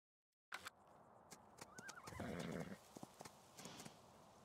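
A horse in Farming Simulator 19 gives a clear whinny mid-clip, with scattered hoof clip-clops before and after, close and fairly loud after a brief silent start.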